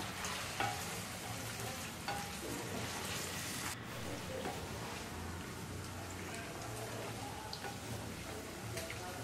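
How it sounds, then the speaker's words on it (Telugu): Paneer pieces fry in hot oil with a quiet, constant crackling sizzle and occasional light pops and stirring taps, close by and without speech. "పన్నీర్ని అయితే కట్ చేసుకుని ఆయిల్లో వేసి ఫ్రై చేసుకోండి ఒక 2 నిమిషాలు"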